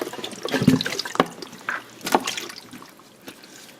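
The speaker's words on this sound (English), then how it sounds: "is I'm gonna rinse this with cold water and some salt." A turkey is rinsed under cold running water in a kitchen sink, giving uneven splashing and trickling bursts with a few sharper splashes, close up and moderately loud, with no talking.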